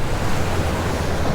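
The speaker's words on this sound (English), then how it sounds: "Look how big them swells are." Large ocean swells break on the surf side of a south jetty, making a dense, steady roar of surf mixed with wind buffeting the microphone, loud and continuous through the short span.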